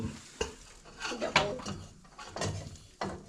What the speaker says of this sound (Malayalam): ചട്ടി ചൂടായി. അങ്ങനെ ഞങ്ങൾ എന്നിട്ട് ഞങ്ങൾ തന്നെ ആക്കിയതാ കേട്ടോ. കൃഷി ചെയ്ത് ആട്ടിയെടുത്തതാണ്. എണ്ണ ഒഴിച്ചു.